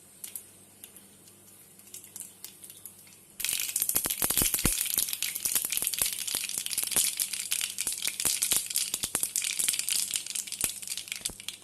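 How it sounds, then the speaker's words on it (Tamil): Mustard seeds splutter and pop in hot oil in a pan while a Tamil lemon pickle is being made, starting with a quiet hiss and then breaking into a loud, dense crackle of rapid pops that runs on steadily with no talking. "கடுகு பொரிஞ்சிருச்சு."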